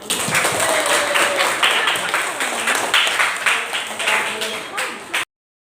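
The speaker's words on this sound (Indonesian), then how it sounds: "Tepuk tangan semuanya." Students in an Indonesian junior high school classroom clap their hands together in steady, dense applause lasting about five seconds, fairly loud and close, then it stops abruptly.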